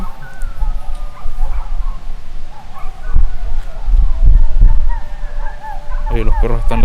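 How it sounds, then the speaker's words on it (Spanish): Dogs bark repeatedly at night in a rural part of Chile, several sharp yips and barks at middle distance. A few whimpers are mixed in, and people talk quietly over the barking. "los perros están ladrando demasiado"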